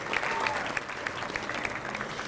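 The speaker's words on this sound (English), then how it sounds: "Yeah, give her a clap." Banquet audience applauding a freshman athlete at an all-sports awards night, a steady wash of many hands clapping across a room, moderately loud and sustained throughout.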